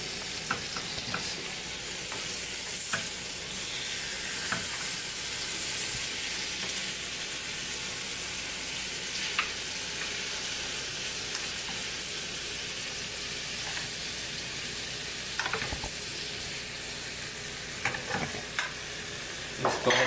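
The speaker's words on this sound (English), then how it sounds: "Let's go ahead and let that saute for a minute" Quinoa paella ingredients sauté in a hot pan, a steady crackling sizzle over twenty seconds with occasional sharp pops and spatula scrapes, close and even in level, no speech.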